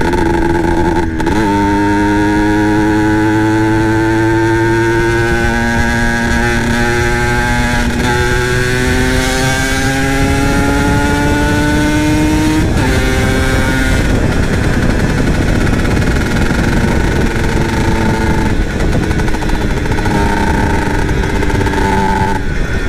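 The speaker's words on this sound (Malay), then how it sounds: "Jadi kalau korang nak layan bunyi TZ, boleh layan video ni." A Yamaha TZM two-stroke motorcycle engine revs loudly and continuously up close, its pitch climbing in long sweeps, dropping back and rising again with a raspy, crackling two-stroke tone and no voices.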